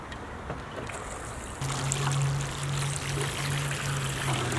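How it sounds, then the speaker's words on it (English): Water poured onto soil around a newly planted tomato plant, a steady close splashing and trickling that grows louder partway through and runs continuously, with no talking. "now I just water it in"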